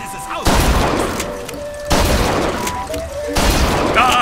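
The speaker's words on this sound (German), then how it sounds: "Die haben einfach mal hier echte Waffen, natürlich." Gunfire from weapons at the fair in Bioshock Infinite, three loud booming shots spaced about a second and a half apart, each trailing off into rumble, with faint game sounds between.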